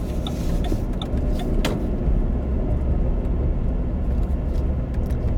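A car rolls along a narrow, slightly bumpy road on a military base and makes a right turn into a turn lane, its engine and tire rumble steady and close, with faint clicks above.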